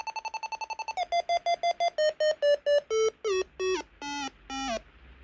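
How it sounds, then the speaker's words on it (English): Airspeed audio from a Jeti MSpeed sensor at its maximum: a fast train of bright electronic beeps that slows into longer, separated tones with falling pitch, loud and alone. "at our chosen 60 it reaches maximum beeping"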